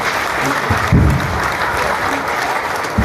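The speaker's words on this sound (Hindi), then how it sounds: "पुराने लोगों ने नए लोगों के लिए फैमिली में वेलकम करके ताली बजानी चाहिए" An audience at a blockchain plan presentation claps to welcome newcomers, a loud, dense round of applause with a sharper burst near the one-second mark, under faint background voices.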